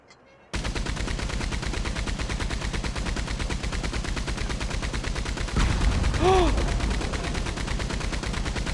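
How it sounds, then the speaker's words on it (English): Maxim machine gun in Red Dead Redemption 2, firing a long sustained burst of rapid, evenly spaced shots, loud and close, with a heavier blast partway through. "Use the Maxim gun."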